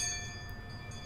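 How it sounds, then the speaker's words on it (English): A distant school bell in the Higurashi video game rings in a short sustained chime with steady tonal overtones, faint and far-off, with no talking. "we heard a bell far away, marking the end of our lunch break"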